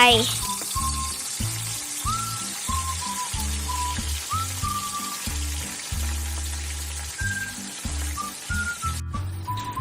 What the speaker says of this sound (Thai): ใส่น้ำมันพืช ใส่ให้เยอะหน่อยนะครับ พอให้ท่วมปลา ใส่เนื้อปลาช่อนลงไป